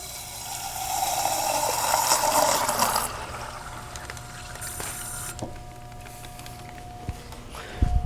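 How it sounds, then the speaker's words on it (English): Water streams from a special deionized-water faucet in a lab setting, a steady close rush for about three seconds before the flow stops and only a low room hum remains. "over here we have a special faucet"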